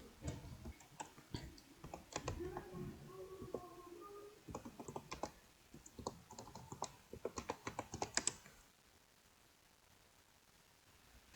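Typing an administrator password on a computer keyboard at a Windows 11 login during a domain-join setup: a rapid run of crisp, close key clicks in uneven bursts for about eight seconds, then near silence.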